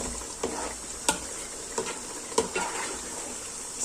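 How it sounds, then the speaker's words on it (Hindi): A spoon stirs urad daal with spices in a pot, giving a few distinct scraping knocks against a steady soft sizzle. The sounds are close and moderately loud, with no talking. "इसको अब हिला देंगे"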